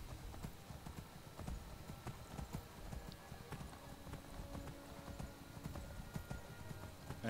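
Horse hooves clip-clop steadily in Skyrim, a rhythmic run of close, moderately loud hoof strikes over a low rumbling game backdrop, with no one talking.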